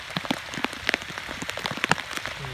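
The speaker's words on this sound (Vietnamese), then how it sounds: "Nhưng mà tại trời mưa quá." Heavy rain patters steadily on surfaces during a storm, with dense, irregular drops close by and no voices.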